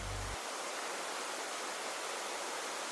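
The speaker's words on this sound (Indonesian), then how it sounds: "Suara gemercik air yang menenangkan." Water rushing over rocks at Mapanegaya waterfall, surrounded by tall cliffs and green trees, a steady broadband roar heard close and constant without any talk.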